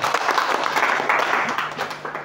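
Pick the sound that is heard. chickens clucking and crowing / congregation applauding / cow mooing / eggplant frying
congregation applauding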